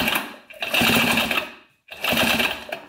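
A 1980s Honda CR80 two-stroke dirt bike engine spins over unhealthily, two long bursts of rapid, buzzing mechanical chatter separated by a short silence, close and loud, sounding rough and uneven.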